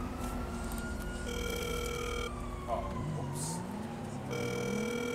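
A phone call rings in the video game GTA 5 as a steady electronic tone pattern beneath a wailing siren and street ambience, with someone briefly speaking over it.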